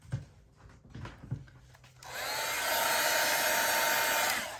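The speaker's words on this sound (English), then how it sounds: "I'm going to hit it with the heat gun." A heat gun blows over a resin-coated shaker badge reel, with a few light handling knocks first, then a steady loud whooshing roar of air that holds for several seconds.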